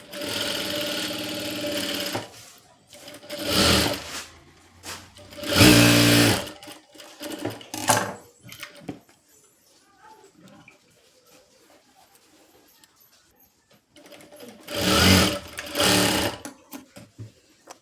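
A sewing machine stitches a stiff blouse fabric with a back hook, running in several short bursts of rapid whirring and clatter separated by quiet pauses, close up.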